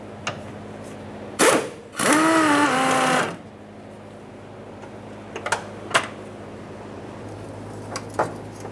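A 13mm socket ratchet working the mounting bolt of a fuel tank strap on a 2004-2008 Ford F-150 5.4L V8, with a short burst of rapid clicking, sharp clacks before and after, and a few scattered taps.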